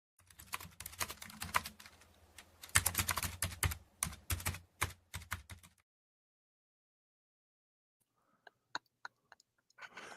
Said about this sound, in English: ready to do the clickety clack on the imaginary keyboard?